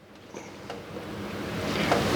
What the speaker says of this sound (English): drain the water out